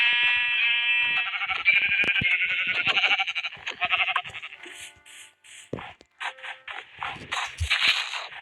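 Sheep bleating repeatedly in Minecraft, wavering calls close by, followed by scattered scrapes and shorter bleats, with no talking.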